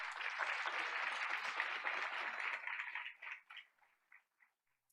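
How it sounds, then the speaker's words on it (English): A round of applause at a school board of education meeting, steady crowd clapping that thins out into a few scattered last claps before falling silent. "Let's give him a round of applause."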